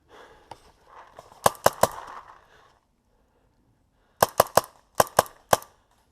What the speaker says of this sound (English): I just shot Caleb, I think